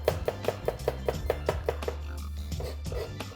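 A knife dices food very finely on a board, making a run of about ten quick, evenly spaced taps before the chopping turns softer and more irregular.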